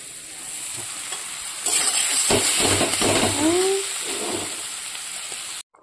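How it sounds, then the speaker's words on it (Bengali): Water poured into a sizzling potato and pea curry in a pan on the stove raises a loud, steady hiss and steamy crackle over the frying, with stirring scrapes and a few brief clinks. "এবার আমি এখানে দিয়ে দেবো পরিমাণ মতো জল"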